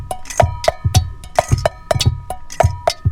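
Quick metallic taps on a small 1-quart pot ring out in a lively percussive rhythm, mixed with light scratchy and thumping hits, close and fairly loud.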